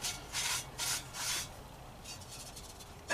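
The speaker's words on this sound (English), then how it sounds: "So for now we're going to wipe it down with a rag." A rag wiping ash and rust out of a cast iron roasting pot, heard as three soft scrubbing strokes near the start followed by fainter rubbing, close and quiet with no talking.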